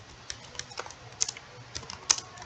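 Code is typed on a computer keyboard: a quick, uneven run of light key clicks with a few sharper, louder taps, close and alone without speech.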